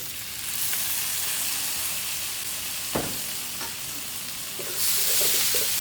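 Garlic, onion and tomato sautéing in a pan, with a steady loud sizzle and occasional stirring scrapes, the hiss swelling louder near the end as fresh ingredients hit the hot oil.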